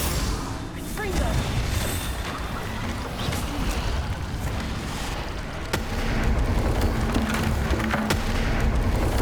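A Confringo blasting spell explodes in Hogwarts Legacy amid a dense, loud wash of rumbling booms and crackling bursts that persists throughout, with sharp cracks standing out near the middle.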